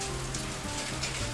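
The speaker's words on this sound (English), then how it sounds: "If you can hear loads of banging, that is because it is hailing outside" Hail pelting down outside during a sudden summer hailstorm, a dense steady patter like heavy rain drumming on a surface, continuous and fairly close, with no voices.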